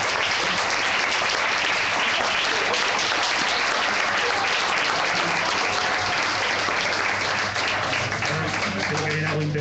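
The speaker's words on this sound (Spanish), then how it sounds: "Me gustaría pues cerrar esta exposición con un fuerte aplauso del público." Sustained loud applause from the audience at a novel presentation fills the whole stretch, dense steady clapping with a faint voice underneath toward the end.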